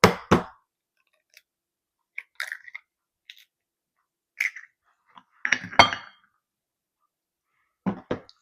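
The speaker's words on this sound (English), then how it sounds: "We'll go ahead and add 1 egg at a time." Eggs go one at a time into brownie batter in a bowl, heard as scattered close clinks, cracks and taps with a wet squish, separated by quiet gaps.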